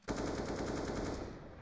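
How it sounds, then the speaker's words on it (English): Rapid automatic gunfire from the Counter-Strike map Dust2 during a pro esports match, with dense, continuous bursts of loud rifle fire and no talk. "They may have walked right pass, but they're going to jump up and Device misses that shot."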